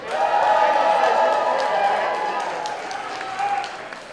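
A crowd at a professional wrestling benefit show cheers and claps steadily, a dense wash of applause that is loudest at first, then eases off, with shouts rising above it.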